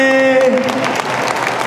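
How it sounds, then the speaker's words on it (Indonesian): An audience claps at the Anugerah Kreasi Indonesia awards ceremony in Pontianak. A voice is heard briefly at the start, then loud, dense clapping fills the rest. "Mana belum meriah tepuk tangannya untuk Bang Miji."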